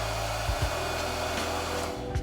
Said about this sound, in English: just go ahead and use the dryer.